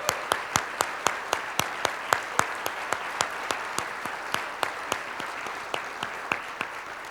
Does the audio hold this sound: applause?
yes